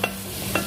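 Chicken curry frying in a pan, a soft background sizzle with two brief stirring scrapes spaced about half a second apart.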